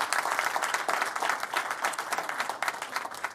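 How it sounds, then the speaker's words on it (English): A brief burst of dense applause from an audience at a city crime-reduction press event, steady clapping with no voices over it. "Can we give him a round of applause again?"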